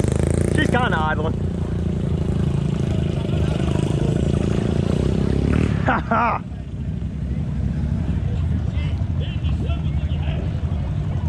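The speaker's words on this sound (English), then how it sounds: "She's kind of idling." ATV engine idling at an off-road park, a steady low rumble running continuously close by, with a brief louder revving surge near the middle and people talking over it.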